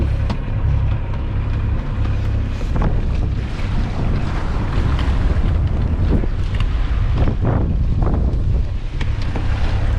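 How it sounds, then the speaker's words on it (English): Sailboat motor sailing with the mainsail up across open water, a steady engine drone blended with strong wind buffeting and wave wash, loud and continuous with no voices. "We are still motoring with the mainsail up, motor sailing"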